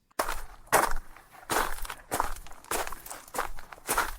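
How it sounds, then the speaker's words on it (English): Slow, methodical footsteps in an audio drama, about six heavy, evenly spaced steps sounding close and loud with nothing else over them. "Shortly into his patrol, Finton paused as he heard footsteps."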